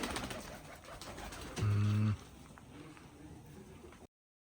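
Low, soft cooing of pigeons close by, with a brief louder coo in the middle over a faint background hum.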